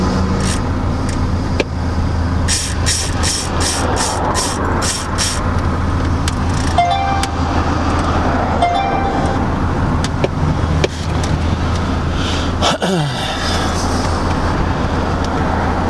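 A car drives along a road, a steady engine and tyre rumble with passing traffic noise throughout, recorded from inside the vehicle on a sunny day, with faint clicks and no speech.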